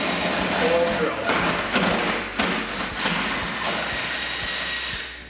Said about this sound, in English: I like to hold this in place as level as possible and get my hole drilled.